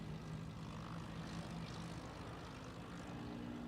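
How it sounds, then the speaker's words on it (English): P-51 Mustang piston engines at the SUN 'n FUN air show, a steady, faint propeller drone carried from a distance with no voices over it. "I hear the Mustangs out there."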